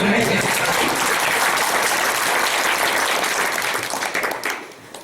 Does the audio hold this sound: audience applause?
yes